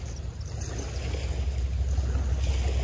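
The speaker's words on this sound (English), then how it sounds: "The sound of the waves." Waves wash onto a Port Phillip Bay beach at sunrise, a low rolling surge with soft wind rumble, moderately faint and building slightly over a few seconds, no voices.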